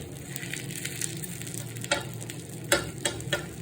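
A paneer masala dosa fries in ghee on a pan, a close, crackling sizzle punctuated by several sharp scraping strokes from a spatula toward the end.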